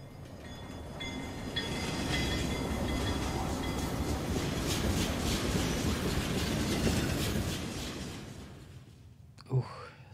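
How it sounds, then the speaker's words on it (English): A train rumbles past steadily at moderate volume, with a broad clattering roar that swells and then eases off toward the end. A short sharp sound cuts in just before it fades. "Sandra Bullock was on that train"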